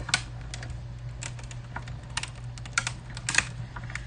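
A die-cutting machine presses a plate and detailed dies through vellum, giving a steady low hum beneath irregular sharp clicks and crackles, close up and moderately quiet, with no talking.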